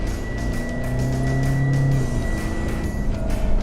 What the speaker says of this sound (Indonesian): barusan gue udah coba bejak mobil ini, ternyata dengan berbekal mesin 4 silinder berkapasitas 2442 cc